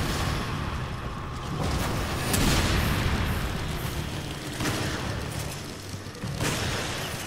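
Rocket launcher blasts go off in Resident Evil 5 co-op combat. Several heavy booms and bursts rise out of a constant loud rumble of battle noise, with no talk on top.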